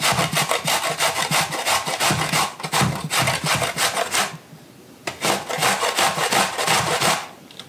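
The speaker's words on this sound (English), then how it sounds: "I grate the peeling seeds and all" Zucchini and yellow squash rubbed against a kitchen grater, skin and seeds included: a run of rapid rasping strokes, close and loud, with a brief pause partway before the scraping resumes.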